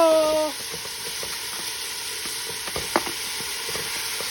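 Pork adobo with potato sizzles steadily in a pan while it is stirred, with a few scraping knocks of the utensil and a short tone at the start.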